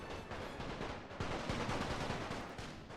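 Rapid rifle and machine-gun fire crackles in the WWI mod of Napoleon Total War, a dense continuous fusillade of overlapping shots at moderate distance, steady throughout without talking.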